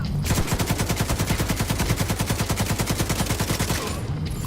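Rapid, steady automatic turret fire in The Division 2, a long rhythmic burst of loud shots lasting about three and a half seconds before cutting off, with no talk over it.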